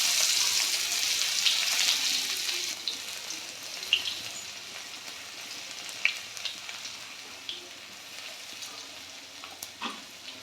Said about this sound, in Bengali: যেই রসুনগুলো নিয়েছিলাম সেটা থেতো করেছি, ওটা ফোড়ন দিয়ে দেবো